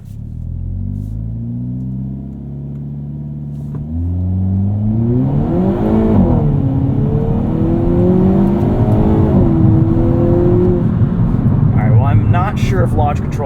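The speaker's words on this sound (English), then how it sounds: "that was a pretty solid launch with just a brake boost start" A 2022 Hyundai Kona N launches from a brake-boost start in N mode: the engine idles and then revs hard, pulling through rising gears with a loud in-cabin roar and brief shift dips, plus a faint chirp near the end.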